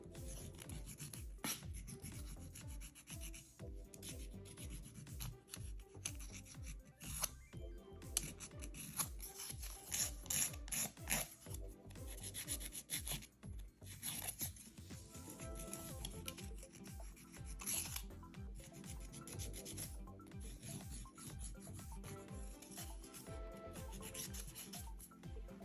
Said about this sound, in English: essentially you're gonna try to file through the layers until you get to the peel base